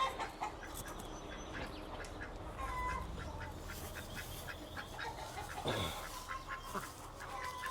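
Pet ducks on a small farm with a pond, quacking and clucking steadily at a moderate distance, several birds calling over low outdoor background noise.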